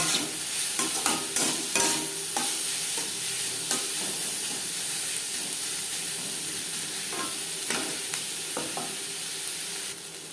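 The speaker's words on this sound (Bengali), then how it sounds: "লবণ হলুদ দিয়ে দু তিন মিনিট পেঁয়াজ ভেজে নেওয়ার পর" Chopped onions fry with salt and turmeric in a pan for an egg curry, a steady close sizzle broken by scraping stirring strokes and occasional sharp clicks of the utensil.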